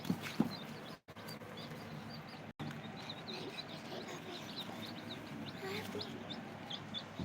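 Soft, busy peeping and clucking of chicks, many small calls overlapping continuously amid faint background voices.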